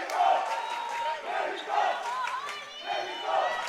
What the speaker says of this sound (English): now we hear the Argentinian crowd rallying around Viñas